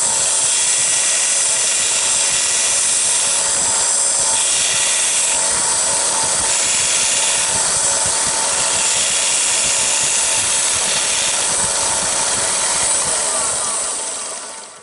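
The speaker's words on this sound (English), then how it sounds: "Then I've got a 1x30 belt sander." A 1x30 belt sander smooths the curved parts of a wooden piece, giving a steady, loud, continuous whirring grind that holds evenly throughout before tapering off at the very end.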